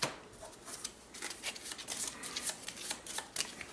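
Playing cards for the Rat Trap card game being shuffled close up, a steady run of crisp riffling and slapping strokes lasting a few seconds, with no voice.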